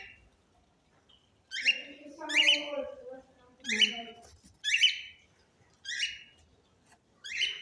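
Small birds chirp in short, bright bursts spaced a second or so apart, with a few lower calls mixed in, close by among tropical plants in Lviv, otherwise quiet.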